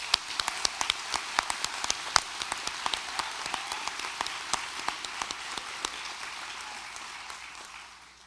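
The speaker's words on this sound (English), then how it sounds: "Let's give the class of 2026 a big round of applause," Sustained applause from an audience at a graduation ceremony, dense overlapping clapping filling the room for about eight seconds before easing off at the end.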